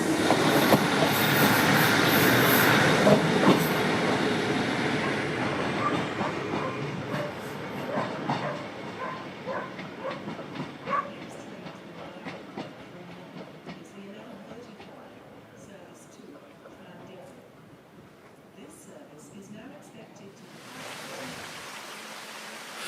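A train bound for Blaenau Ffestiniog in Wales rolls steadily along the rails with a continuous rumbling clatter and occasional clicks, gradually quieting as it runs on.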